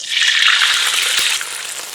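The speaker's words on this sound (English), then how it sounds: "I'm going to lower the heat, and now I'm adding in water" Water pours into a hot pan with broccoli cooking over lowered heat, a loud continuous hissing gush that eases off near the end, close and without talk.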